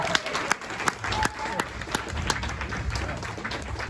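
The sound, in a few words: audience applause for Penny and G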